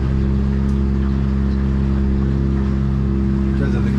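A Yamaha F150 outboard motor on a Stabicraft boat drones loudly and steadily, a constant low engine hum with no clear pitch change.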